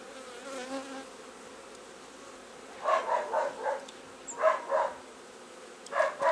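Honeybees in an open hive hum faintly as frames are inspected, a low steady buzz with a few brief louder swells of nearby bees.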